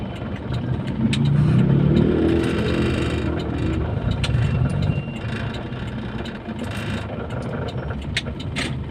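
Road traffic heard from inside a moving vehicle, a steady engine rumble and road noise that swells briefly, with light rattles and clicks throughout.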